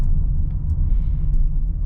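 A Mercedes-Benz GLB 250 mild hybrid slows toward a stop, giving a steady low engine and road rumble heard from inside the cabin, with a faint whine rising briefly in the middle.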